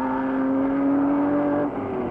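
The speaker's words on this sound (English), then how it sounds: "Paolo Mazzotto is now up in third place with his Ferrari." A Ferrari race car engine during the 1953 Mille Miglia road race holds a loud, steady, sustained drone near the listener, with no speech, and the engine note dips slightly toward the end.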